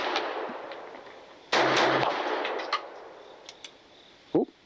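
A 1915 French Ruby pistol fired at a steel plate outdoors: one loud, sharp report that decays slowly, followed by a few fainter clinks and a brief later clack.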